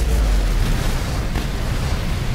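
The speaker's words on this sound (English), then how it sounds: "Explosion." A low, rumbling boom from an explosion in the Mad Max video game rolls on with a sustained, loud roar and no clear sharp onset, heavy in the bass throughout.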